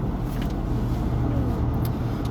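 A car cruises along a road through forest, its engine and tyre rumble a steady, close drone throughout with no breaks.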